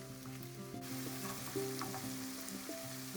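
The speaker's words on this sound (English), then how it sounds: "Add 1 big chopped onion to this. Cook the onions for about 5 minutes, stirring occasionally." A big chopped onion fries in vegetable oil for a mushroom curry, giving a soft, steady sizzle with occasional stirring under faint tonal music, no talking.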